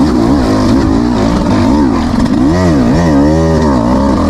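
A 2026 Beta 200 RR X-Pro two-stroke dirt bike held in second gear, its engine loud and close, droning steadily and then rising and falling in pitch as it pulls.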